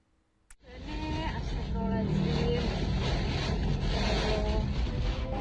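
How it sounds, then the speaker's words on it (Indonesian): Heavy rain driven by strong wind in Brebes, Central Java, arrives as a sudden dense roar after a sharp thump and then holds as a loud, steady wash with faint tonal traces beneath. "hujan deras disertai angin kencang menerjang sejumlah wilayah di Brebes"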